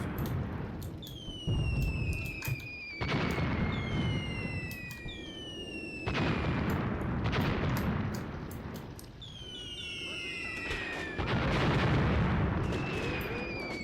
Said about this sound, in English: Mortars and machine guns.